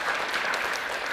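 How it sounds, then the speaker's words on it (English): A crowd at a city MLK Day commemoration gives a brief burst of dense, steady applause, heard faintly at a distance. "Give her a round of applause."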